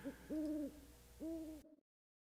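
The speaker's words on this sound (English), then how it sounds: "American Night Owl." An American night owl call gives two drawn-out, clear hooting notes separated by a short gap, faint and alone, before it falls silent.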